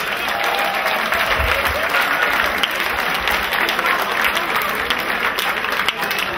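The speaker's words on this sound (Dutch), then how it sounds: "wil ik een daverend applaus hebben" A large crowd at the 2015 pole-sitting contest final applauds loudly and continuously, a dense, sustained wall of clapping.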